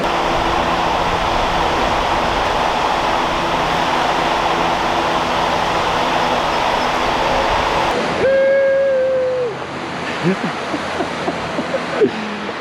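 A turbocharged Honda S2000 on a dyno at 8 psi boost roars loud and sustained for several seconds, then cuts off abruptly, leaving short whistling and fluttering tones as it winds down.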